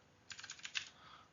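A short, faint run of about half a dozen keystrokes on a computer keyboard while C++ code is typed, quick soft clicks heard alone and close for under a second.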